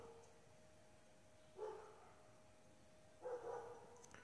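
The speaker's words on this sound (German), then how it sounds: "Hör auf, so da draußen zu bellen, du Hund." A dog barks outdoors in two short, faint bursts a couple of seconds apart, distant and alone against a quiet background.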